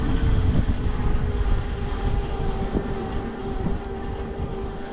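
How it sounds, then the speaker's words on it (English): Motor of a Rad Power Bikes Radster Road e-bike climbing a hill gives a faint steady whine beneath rumbling wind and road noise, quiet and constant throughout. "Motor noise is very well done. It is not loud, not whiny at all."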